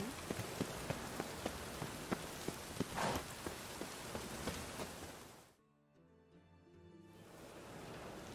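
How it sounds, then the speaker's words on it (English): Steady, close rain in The Witcher 3 patters densely on surfaces with scattered drop ticks for about five seconds, then cuts to near quiet broken by faint tonal ambience before a softer hiss of rain returns. "it just rains and rains."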